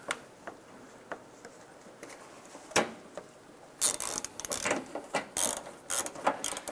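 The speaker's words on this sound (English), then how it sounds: "We're going to install our 10mm bolt holding the back corner of the fender to the bumper." A ratchet tightening a 10mm bolt that holds the fender corner to the bumper on a 2006-2011 Cadillac DTS: a single clack, then bursts of rapid close clicking strokes, with quiet handling between.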